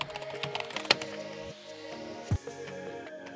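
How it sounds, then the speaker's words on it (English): Typing on a computer keyboard: a quiet run of scattered key clicks, a few sharper taps standing out, heard alone at close range. "you can proceed and type in your message"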